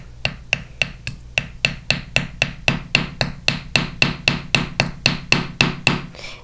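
A small hammer taps wire rivets on metal bracelet discs in a quick, even series of about twenty sharp, close metallic strikes, alone without talk.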